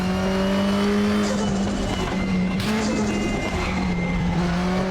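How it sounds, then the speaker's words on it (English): Race car in the sim racing game Raceroom, its turbocharged engine droning loud and steady with a high whistling turbo whine layered over it and a faint tyre squeal; no one talks. "I love the turbo noise in this"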